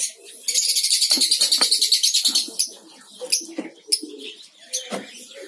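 Lovebirds in a breeding colony give a rapid run of loud, shrill chirps up close, followed by scattered sharper calls and rustling movement.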